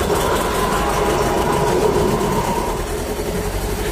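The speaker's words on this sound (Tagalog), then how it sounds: "napaandar natin yung ating makina" A screw type compressor unit's engine runs after starting, a dense, continuous mechanical rumble and clatter that stays loud and steady, easing slightly toward the end.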